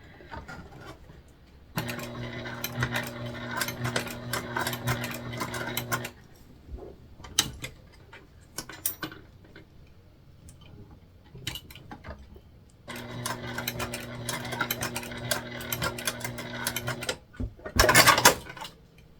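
A sewing machine stitches a fabric sling in two close, whirring bursts of several seconds each, with quiet pauses, small clicks and handling noises between them.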